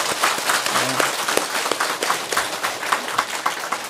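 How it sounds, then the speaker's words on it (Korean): A Buddhist lecture audience claps together in a hall, dense sustained applause filling the whole stretch, fairly close and loud with scattered distinct claps and a brief low murmur beneath. "우리 박수 한번 칩시다"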